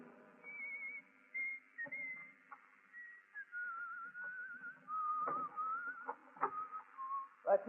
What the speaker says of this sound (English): He doesn't whistle that well